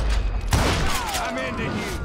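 Revolver gunfire in the Western shooter Call of Juarez Gunslinger, a sharp loud shot and a low boom opening into a ringing, sweeping tail, with a voice partly over it.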